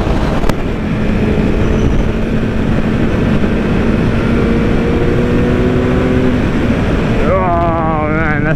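A Kawasaki Z900 motorcycle engine accelerates with a steady loud drone buried in heavy wind rush, the pitch climbing sharply through a gear near the end.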